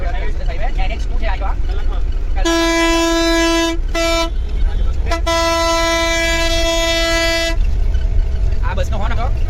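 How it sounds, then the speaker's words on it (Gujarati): A bus horn on the NH2 highway, heard from inside the bus: a loud, steady, tonal blast of about a second and a half, a brief second toot, then a longer blast of over two seconds, all over constant road and engine rumble. "આ બસનો હોર્ન હતો બહાર કરતા અંદર વધારે સંભળાય એવો હોર્ન છે"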